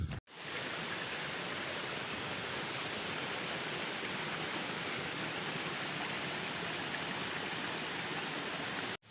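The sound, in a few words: water runoff trickling through the undergrowth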